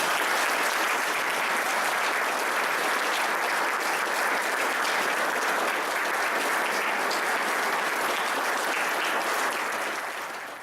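Sustained, loud applause from a crowd at a military retirement ceremony, dense and even for about ten seconds before tapering at the end.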